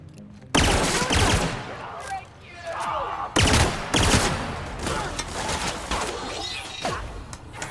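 Rapid bursts of automatic gunfire from the video game The Outer Worlds crackle loudly and repeatedly across the scene, with a short lull in the middle and a voice sometimes heard among the shots.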